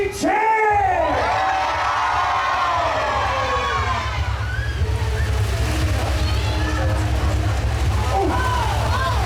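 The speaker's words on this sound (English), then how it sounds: "With your champion, a mighty cheer!" A crowd at a medieval knight show bursts into loud cheering and whooping with many overlapping voices, strongest at the start and then thinning into scattered shouts over a steady background rumble.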